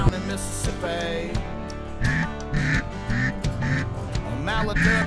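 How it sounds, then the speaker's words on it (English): Mallard ducks quack repeatedly and loudly at close range during a duck hunt in the Mississippi mud, a dense series of nasal calls overlapping one another with no talking. "A mallard duck, yeah"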